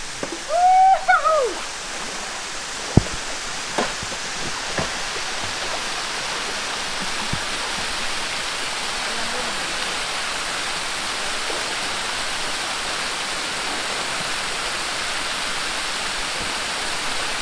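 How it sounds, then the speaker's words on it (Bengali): The last waterfall on the Boalia trail, a steady broadband roar of falling water that fills the whole stretch, with a brief voice and a few faint knocks early on. "এই ট্রেইলের লাস্ট ঝর্ণা।"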